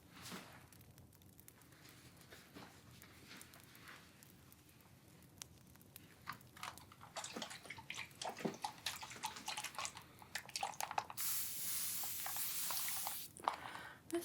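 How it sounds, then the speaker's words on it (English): A spray bottle used during an ASMR hair and scalp care session gives scattered soft clicks and wet patter, then a continuous close, bright hiss over the last few seconds before it cuts off. "See, I spray it and then it just keeps going after the fact."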